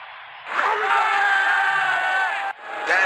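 Cricket World Cup stadium crowd cheering wildly, a loud sustained roar with whoops and screams that swells, drops abruptly, then surges back up.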